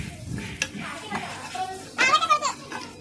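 Masala with curry leaves stirred in a pan for a Malabar dish, spoon scraping and clinking against the metal in short bursts over a light sizzle, with someone talking and children's voices in the background.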